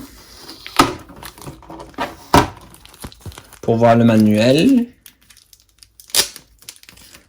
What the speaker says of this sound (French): Nous allons enlever le scotch qui est là.